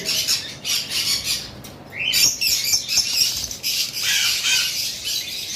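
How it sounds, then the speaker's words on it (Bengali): Blue lovebirds squawk and chirp in sharp, shrill bursts, several birds calling over one another nearby in a busy, uneven chatter, with no voices. "এখানে যে ব্লু লাভবাটগুলো রয়েছে"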